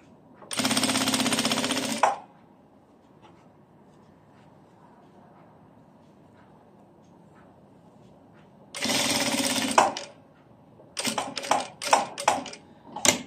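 Sewing machine stitching the shoulder seam of a vest, in close, loud bursts: two sustained runs of rapid needle chatter separated by quiet, then a cluster of short stuttering spurts, with no talking.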